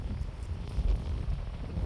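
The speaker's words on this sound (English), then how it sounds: "It's pretty windy." Morning wind blows through open fields, a steady low rumbling buffet against the microphone with a few stronger gusts, continuous and fairly loud throughout, with no voices.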